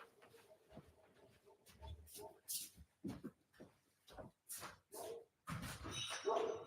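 A dog barks in short, irregular bursts, with some whimpering between them. The barks are faint, as if from another room.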